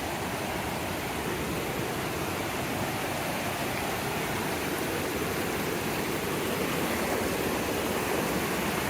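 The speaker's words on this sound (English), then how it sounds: "So, full-on waterfall." A full waterfall and rapids beside a portage trail between Boundary Waters lakes, a steady broadband roar of rushing water, loud and continuous with no pauses.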